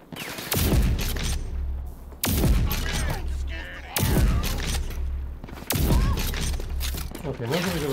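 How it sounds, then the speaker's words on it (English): Combat shotgun blasts in the video game Rage 2 fire in four heavy booming shots spaced about one and a half seconds apart, each ringing out with a long tail and debris, while someone talks over them. "That's what combat shotguns are for."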